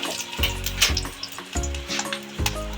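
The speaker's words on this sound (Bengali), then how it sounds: "কড়াটা গরম হয়ে যাচ্ছে, সর্ষের তেল দিয়ে দিলাম, লঙ্কাটা কেটে আমি দিয়ে দিলাম" Chopped chili frying in hot mustard oil in a wok, a steady loud sizzle broken by several sharp spatters and bursts roughly every second, close up with no talking.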